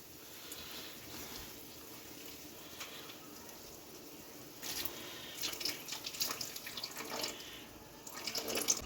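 Water is poured into simmering sambar as a splashing, running trickle that grows louder and busier toward the end, over faint kitchen background.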